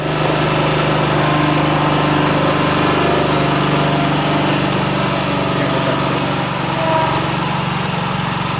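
A small farm engine runs steadily after being started with choke and throttle, giving a loud, close, continuous drone with a constant idle-like hum and no clear change in speed.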